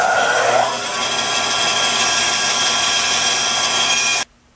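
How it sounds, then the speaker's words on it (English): A bandsaw cuts a wooden blank for a nutcracker's replacement foot, a loud steady whirring rasp that runs continuously and then stops abruptly near the end. "Then I cut it out at the bandsaw."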